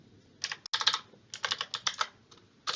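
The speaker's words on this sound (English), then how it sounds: "So type in sudo" Keys clatter on a computer keyboard as a terminal command is typed on an OS, coming in quick close bursts of clicks with short pauses between them.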